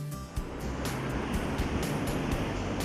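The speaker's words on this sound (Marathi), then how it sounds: "समोर धावणारी मुंबई आणि दुसऱ्या बाजूला आपली गाज ऐकवणारा समुद्र" Sea waves at Marine Drive in Mumbai, a loud, continuous roar and wash of surf with broad rushing bursts recurring every half second or so, mixed with a low rumble that may be traffic.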